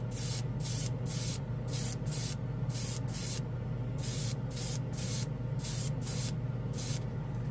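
An airbrush spraying Odenkan metallic metal paint in short repeated bursts of hissing air, about a dozen evenly spaced sprays over a steady low compressor hum, close and alone.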